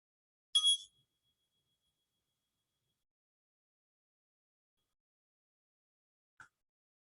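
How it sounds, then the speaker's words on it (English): A meditation bell rings once to close a meditation session: a bright, clear strike with a thin tone that fades slowly into silence, followed seconds later by a second, much softer tap. "at the sound of the bell, we can end our meditation."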